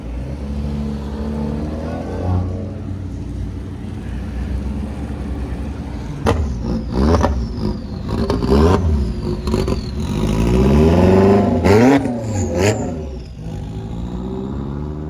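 A Lamborghini Huracan engine revs hard in several sharp bursts, roaring loud and close, with rising and falling pitch over a steady low rumble.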